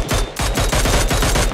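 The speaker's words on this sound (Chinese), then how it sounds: "那边枪声已经响起" Rapid automatic gunfire in the mobile shooter Game for Peace, a steady run of close, loud bursts with sharp repeated shots filling the whole moment.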